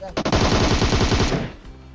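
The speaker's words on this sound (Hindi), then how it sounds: "बस मैं गोली चलाता गया ढीटो की तरफ और 2 बंदे एक ही स्प्रे में निपट गए" Automatic gunfire from a spraying weapon in the mobile shooter PUBG Mobile: a single loud, close burst of rapid shots lasting just over a second, then cutting off.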